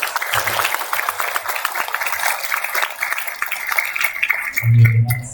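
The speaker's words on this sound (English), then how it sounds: "Please applause." An audience at an international science education seminar applauds an introduced professor, with steady clapping that thins toward the end as a low hum rises underneath.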